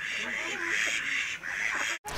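Ducks quack in a mixed bird enclosure alongside chickens at a university animal facility, with a noisy, overlapping chorus of calls and clucks filling the space, close and continuous.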